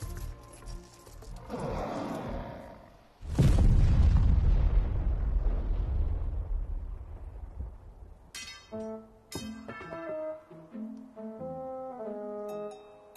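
Animated fantasy battle blast as summoned skeletons are blown up: a sudden loud booming explosion with a long rumbling decay, followed by bright chiming magical tones.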